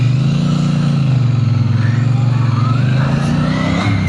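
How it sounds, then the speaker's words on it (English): A Triumph Bonneville T120 motorcycle accelerates hard toward 100 km/h, its engine note loud and close, rising in pitch, dropping at gear changes and climbing again through the gears. "I'm going to get the T120 up to 100 k's an hour in as quick a time as possible."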